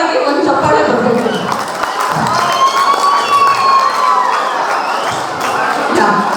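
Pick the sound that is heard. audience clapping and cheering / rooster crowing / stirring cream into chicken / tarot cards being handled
audience clapping and cheering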